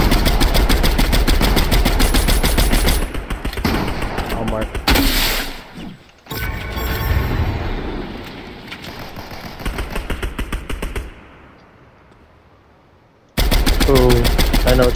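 Dense, loud video game gunfire in Fortnite rattles in sustained automatic bursts with game sounds in between, under players talking over it.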